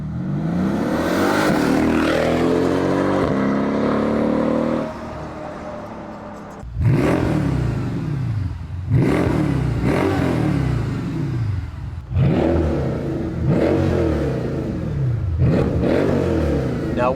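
A Mercedes-Benz AMG fitted with catalytic converters and rear mufflers accelerates hard under load, its exhaust roaring through one long pull and then several rising revs with brief gaps between them, loud and close.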